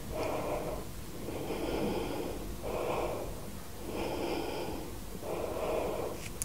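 Slow, audible breaths in and out, about four or five cycles, taken while holding a yoga posture for releasing back tension, close and quiet with no talking.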